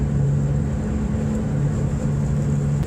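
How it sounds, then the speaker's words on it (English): Transmission whine inside a 1993 Subaru Impreza GC with little sound deadening, a steady droning hum with wavering tones under the engine while driving. "And you can hear the transmission in this car."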